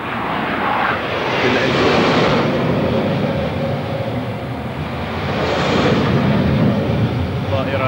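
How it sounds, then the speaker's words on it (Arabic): Jaguar and Hunter military jets of the Royal Air Force of Oman fly over during a National Day military parade, a loud roaring rush that swells and fades twice, with someone commentating over it. "الأجواء طائرة جاكوار وهنتر من سلاح سلطان عمان الجوي"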